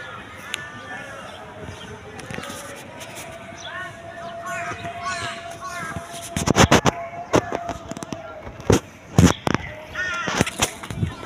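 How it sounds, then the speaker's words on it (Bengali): On a rooftop, crows caw repeatedly in loud bursts toward the end, over a background of people talking and an ongoing hum. "কাক ডাকতেছে"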